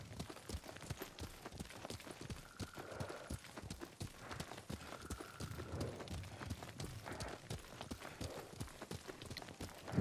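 Horse hooves clop at a steady riding gait while mounted in the video game Ghost of Tsushima, a rapid, even rhythm of hoofbeats that runs throughout at moderate loudness over soft ambient game sound.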